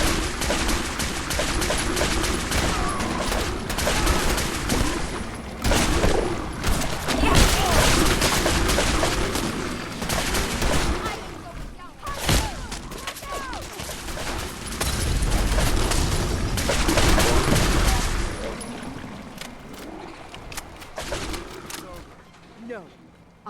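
A chaotic firefight in the video game Fallout 4 brings dense, sustained bursts of gunfire and booms that go on almost without pause, with voices shouting over the shooting.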